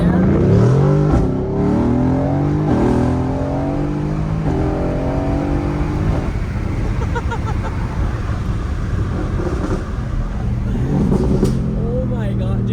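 A Mercedes-AMG GT R supercar engine pulls hard up through the gears, its loud, close growl rising and shifting in steady sweeps while passengers talk over it.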